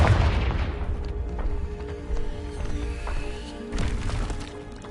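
A Confringo fire spell explodes in Hogwarts Legacy with a heavy boom at the start. Fainter blasts and impacts follow through the rest of the moment.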